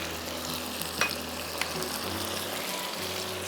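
Half a cup of red onions hits hot oil and fries with a steady, close sizzling hiss, broken by a couple of brief stirring scrapes, with no talking.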